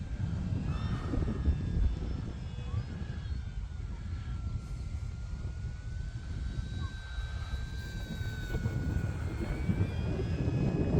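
An E-flite F4U-4 Corsair 1.2 m electric RC model plane flies outdoors in wind, its motor giving a continuous whine that shifts slightly in pitch over a steady rumble of wind noise.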